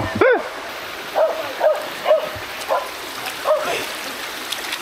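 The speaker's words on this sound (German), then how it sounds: "Hunde freuen sich, wenn man zurückbellt." Several short dog barks and yips, some fairly close and others farther off, come in an irregular series outdoors in cold weather during a long-distance bicycle trip, over steady background noise that sounds like running water.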